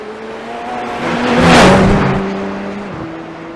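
A Radical SR10 race car in iRacing roars under throttle, its engine note rising in pitch and swelling loud before easing off, with a steady whirring drone throughout.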